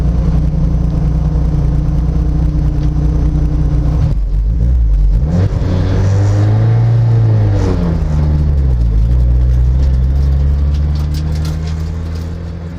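A turbocharged Mazda MX-5 pulls out onto a race track, its engine droning loud and close, dipping briefly then rising and falling through gear changes in a steady buzzing note.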